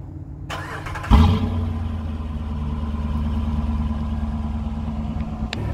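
A 2022 Dodge Durango R/T with the 5.7 liter Hemi V8 starts by remote: a short crank, then a loud catch that settles into a steady, close, low idle rumble.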